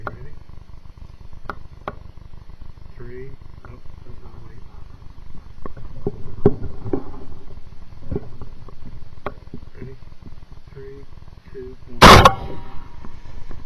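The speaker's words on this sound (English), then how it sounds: "We both shoot and the boar takes off running." Two rifle shots from hunters firing at a boar about 150 yards off ring out loudly together near the end, after a stretch of faint clicks, rustling and low murmuring voices in a quiet night setting.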